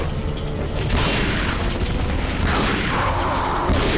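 Shotgun blasts ring out in Resident Evil 4: Separate Ways, three heavy booming shots spaced about a second or more apart over a rumbling game background.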